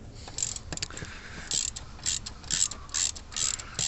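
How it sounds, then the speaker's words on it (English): Ratcheting wrench loosening a bolt on a Citroen C3 1.4/1.6 HDi while working on the clutch actuator, with repeated bursts of close metallic clicking separated by short pauses. "So we've got this bolt here. I'm just going to open that from the top."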